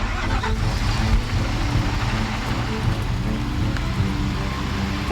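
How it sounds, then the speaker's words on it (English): Thirty-eight trucks roll slowly onto the middle section of a newly built bridge for a load test, a steady, continuous rumble of heavy engines and tires with no voices. "The 38 trucks move to the middle section of the bridge."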